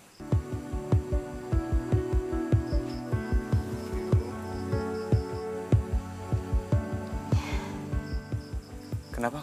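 A pounding heartbeat sound effect in a romantic Indonesian TV drama scene, steady close double thumps repeating throughout over a soft musical hum, with no talking.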